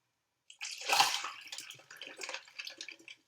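Ice clinks and rattles inside an Avengers mug of iced coffee, a close burst of bright knocks that settles into lighter, scattered jingling.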